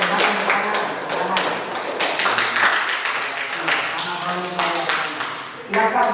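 A classroom group claps together in a brisk burst of sharp, rhythmic claps and taps lasting several seconds, heard close, with voices talking around it.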